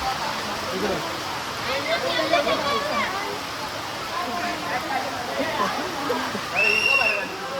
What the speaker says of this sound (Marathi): पाऊस लय जोरात चालू आहे